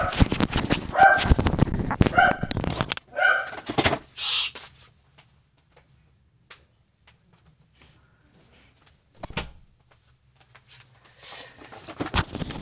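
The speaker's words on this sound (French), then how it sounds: "les chiens aboient" Several dogs inside a house bark in a loud, rapid flurry for the first few seconds. After a quiet stretch, one more short burst comes, and barking picks up again at the end.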